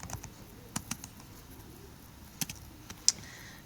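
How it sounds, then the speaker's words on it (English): Quick, irregular keystrokes on a computer keyboard while entering a title, a few sharp isolated clicks spread over a few seconds, close and fairly quiet with no talking. "So now I can type a title here"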